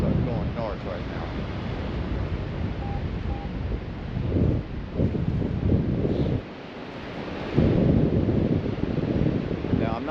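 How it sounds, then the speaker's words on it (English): Strong wind buffets the microphone while paragliding, a loud, uneven roar with gusty surges throughout, with a voice talking over it. "Now the wind is a little from the south"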